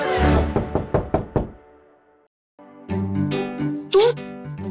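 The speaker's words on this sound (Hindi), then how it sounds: "सुबह सुबह दरवाजे पे कौन आ गया?" Someone knocks on a door in the morning: a rapid series of about six sharp knocks, then a short silence, followed by dramatic background music with a rising swell.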